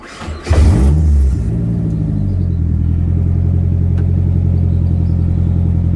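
A Nissan S13 with its KA24DE engine cranks briefly and catches, then settles into a steady, loud, low rumbling idle that continues close by without talk.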